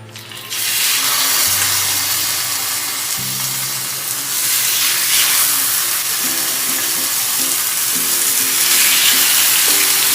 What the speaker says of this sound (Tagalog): Then now we will start to brown our pork shank.